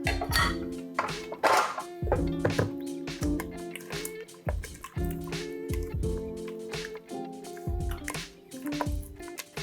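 Liquid and cream cheese are being mixed for a Japanese matcha cheesecake, with close wet squishing and dripping sounds in uneven bursts, and a few light clinks among them.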